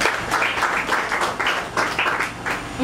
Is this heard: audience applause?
yes